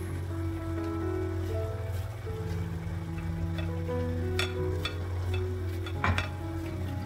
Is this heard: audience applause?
no